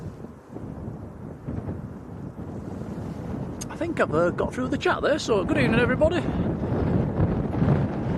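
Blustery wind buffets an outdoor microphone at Leeds Bradford Airport during plane-spotting, a steady low rumble that swells in gusts under someone speaking throughout.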